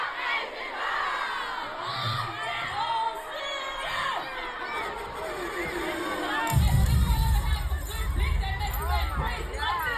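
A large concert crowd in the performer's hometown screams and chants together, loud and dense, with a deeper, heavier surge of shouting in the last few seconds.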